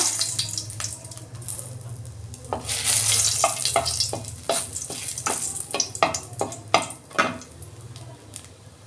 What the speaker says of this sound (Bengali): আমি তেল দিচ্ছি কড়া শুকনো লঙ্কা তেজপাতা